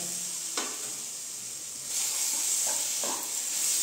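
Ginger and green chilli paste sizzling in a hot pan for bhuna khichdi, a steady bright hiss with a few soft stirring scrapes, close and alone.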